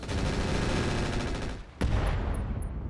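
Mech machine guns in the RogueTech Clan Invasion game fire as a dense, continuous roar that breaks off briefly, then surges back in loud with no talk.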